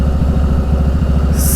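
A motorcycle engine runs close by with a steady, even, throbbing idle that keeps a constant rhythm throughout.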